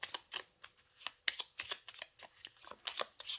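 Tarot cards riffled and shuffled by hand, a rapid series of crisp papery flicks and slaps in uneven bursts, close and fairly quiet, with no voices.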